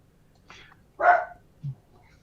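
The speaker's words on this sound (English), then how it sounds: "my dog is also losing his mind at someone at the front door" A pet dog barks at someone at the front door: a couple of sharp, close barks indoors, the loudest in the middle, then a short low grunt, with quiet room noise between.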